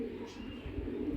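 Ringed long-distance racer pigeons coo in a soft, steady low hum, quiet and fairly near, with no clear talk over it.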